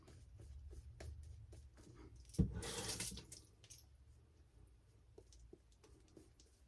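Tap water runs at a sink during a straight razor shave, a short splashing burst from a faucet amid quiet scraping and clicking handling sounds, fairly close and faint.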